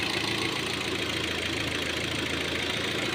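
A car engine idles steadily and evenly, a continuous close mechanical hum with no pauses, while it is being checked before a cylinder head gasket replacement.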